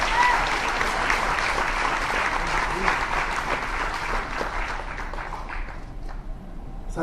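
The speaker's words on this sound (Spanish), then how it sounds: "Denle un aplauso fuerte al Señor." A church audience gives the Lord a loud round of applause during a sermon: dense, sustained clapping that fills the room with some crowd voices mixed in, then slowly thins out toward the end.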